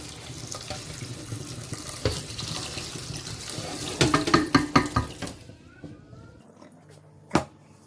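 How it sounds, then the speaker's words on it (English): Cold tap water runs steadily into a sink with swishing and splashing as rice is rinsed by hand. The flow then stops, leaving a quiet pause and one sharp clink. "Use cold water to wash the rice."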